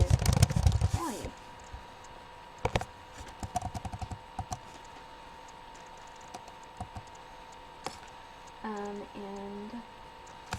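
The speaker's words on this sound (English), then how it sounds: "let me type it here" Keys on a computer keyboard clatter in short, scattered bursts of light taps, faint against a steady background hum, with a brief voice-like sound near the start and end.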